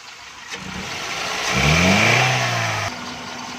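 Suzuki Xli car engine running on CNG as its RPM is adjusted, a steady idle that revs up into a rising, sustained hum before settling back to idle, close by and without talk.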